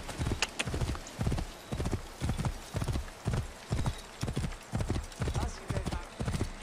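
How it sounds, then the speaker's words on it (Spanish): Horse hooves clip-clop in a steady, even trot throughout, loud and close, in the video game Assassin's Creed Origins, with a Roman gladiator setting. "No puedo subir encima del caballo ese, en serio."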